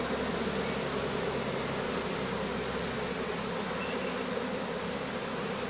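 A caught swarm of honeybees buzzes steadily and densely, a close, continuous drone that holds even throughout with no voices.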